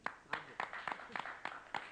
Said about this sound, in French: Bon, ben on vous applaudit.